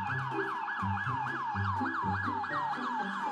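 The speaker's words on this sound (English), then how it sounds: "Police car." A wailing police car siren sweeps up and down in a steady rapid cycle, loud and close, with a low engine rumble underneath and no talking.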